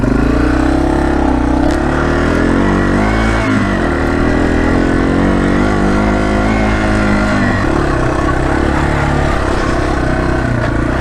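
A dual sport motorcycle is ridden off road, its engine loud and close, revving and rising and falling in pitch continuously, with wind and road noise layered over it.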